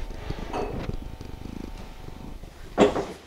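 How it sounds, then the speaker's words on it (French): A cat purring close by, a low rhythmic rumble in soft pulses, ending with a brief louder rustle. "Il ronronne."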